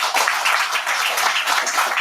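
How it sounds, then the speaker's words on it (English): Audience applause at a graduation ceremony, a dense, steady burst of many hands clapping together, loud and close, with no voices over it. "Let's give another big round of applause to her."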